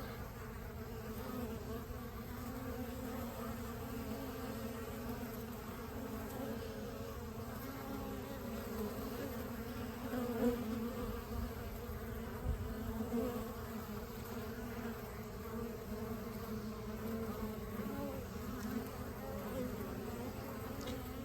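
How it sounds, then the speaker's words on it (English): A dense, steady drone of many honeybees returning to a hive in winter, buzzing close by, a continuous low hum with individual bees briefly swelling louder as they pass. "It's got a lot of bees returning."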